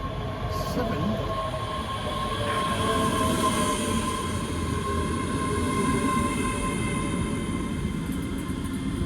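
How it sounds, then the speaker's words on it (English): A three-carriage passenger train at Haymarket station, heard as a steady, continuous rumble with faint rail tones for the whole stretch, fairly close and without talk. "This train is formed of 3 carriages."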